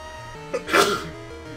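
A single sharp human sneeze rises briefly out of a quiet room tone with faint background hum, close and moderately loud.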